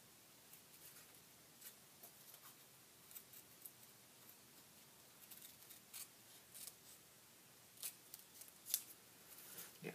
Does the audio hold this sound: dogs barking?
no